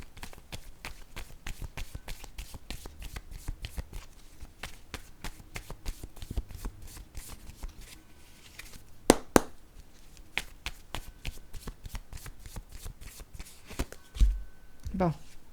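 A deck of cards shuffled repeatedly, dense quick riffling clicks running steadily close by and fairly quiet, with a few sharper knocks near the end; someone speaks briefly at times.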